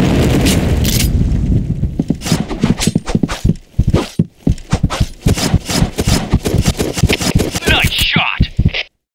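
Booming explosions and rapid gunfire from a shooting video game with a grenade going off, dense overlapping blasts throughout and voices heard in the mix.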